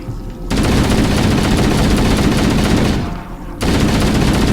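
Sustained automatic assault rifle fire in Halo CE against the Flood, two long loud bursts with a brief pause between them, close and dense.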